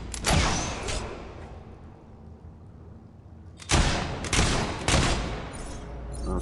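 Sniper rifle shots in the video game Fable 3: one loud blast at the start, then a quiet stretch, then a close cluster of sharp reports near the end, with no talking.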